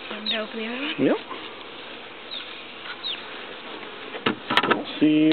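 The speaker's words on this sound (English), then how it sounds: "See a lot of bees in the" Honeybees in an opened transport box give a close, steady buzz, while people talk nearby and a few sharp knocks and handling sounds come near the end.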